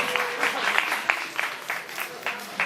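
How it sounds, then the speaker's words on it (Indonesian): A small audience at a student organization election speech applauds. The claps are light and scattered, with slightly rhythmic peaks, and run steadily at moderate volume for a few seconds. "Ya tepuk tangan dulu, tepuk tangan dulu."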